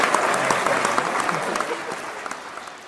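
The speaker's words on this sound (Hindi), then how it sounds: "यार ताली कमजोर हो रही है आपकी थोड़ी।" Hindi comedy poetry show audience applauding, a dense steady wash of clapping from a crowd that slowly fades over a few seconds.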